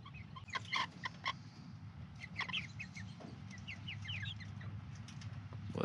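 Chickens in a backyard coop give faint, scattered clucks and short squawks in irregular bursts over a low background hum.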